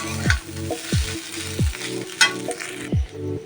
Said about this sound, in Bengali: দেখুন, কড়াইয়ের মধ্যে আমি একটা চাউ দিয়ে দিয়েছি।